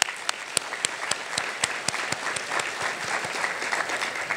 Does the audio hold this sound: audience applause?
yes